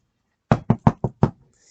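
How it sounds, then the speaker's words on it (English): Five firm knocks on the wooden door of a lone cottage, delivered close up in an uneven rhythm, standing alone against near silence. "So Hob and Giles approached the door of the lone cottage and knocked."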